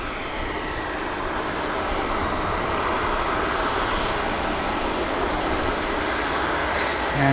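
A Boeing 737 Max 8 airliner departs Manchester Airport with a steady, broad engine roar heard from some distance, holding level throughout without talk.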